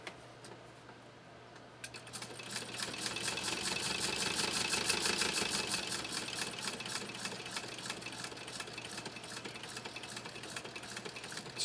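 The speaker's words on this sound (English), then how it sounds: "hopefully that adjustment will give us a little bit better lock stitch than our first attempt at sewing at this stitch length" A 1923 Singer Class 128 knee-controlled sewing machine starts up after a quiet moment and stitches steadily, its fast, even needle clatter building to a close mechanical whir and then holding a slightly lower pace.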